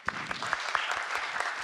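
Audience applause at a conference lightning talk: a short burst of many hands clapping at close range, steady and dense, with no voices over it.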